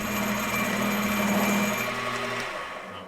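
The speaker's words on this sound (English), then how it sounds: "Next, I headed over to the mill to face both ends." Milling machine facing the end of a large, heavy pipe: a steady, loud mechanical whine with a constant motor hum, easing off slightly toward the end of the three seconds.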